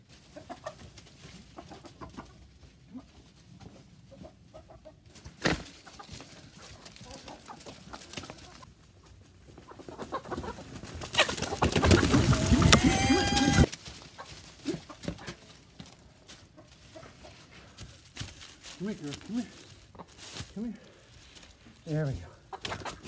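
Chickens and roosters in a farm setting, scattered clucks and murmurs over a busy background, with a louder burst of rustling activity in the middle and more clucking afterwards.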